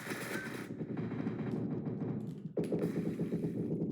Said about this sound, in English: now you decide to show up and start shooting at us